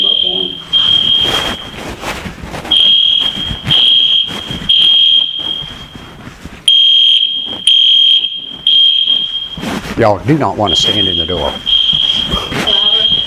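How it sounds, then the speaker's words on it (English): A fire alarm blasts in a room, a loud piercing electronic tone sounding in repeated long bursts with short gaps, while a person talks over it. "I've never felt a fire alarm go through my head before."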